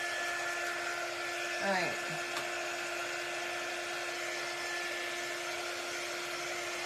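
A dryer blows steadily to dry freshly made craft pieces, a constant whirring hum that runs throughout, with a brief spoken remark over it.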